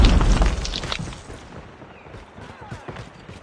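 A grenade blows up in Call of Duty Mobile multiplayer, a sharp close boom that rolls into a long, fading rumble, with softer in-game clatter and faint voice callouts behind it.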